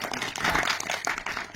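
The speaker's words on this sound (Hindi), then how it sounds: "हमारे पहलवान मुष्टंडों के लिए तालियां हो जाए।" Audience clapping for the child wrestlers in a children's interactive theatre play about environmental awareness: a short, dense burst of crackling applause at steady loudness.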